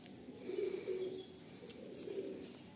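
A Madrasi loft pigeon cooing nearby in a couple of soft low phrases over quiet background hiss, with no talking.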